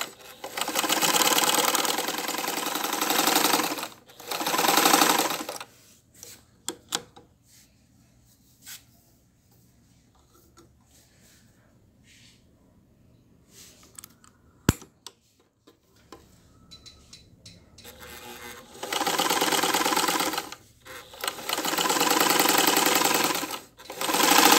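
An old Elgin sewing machine driven by a small electric motor whirs loudly in fast bursts of a few seconds each, with quieter mechanical ticking and handling noises in the pauses between runs.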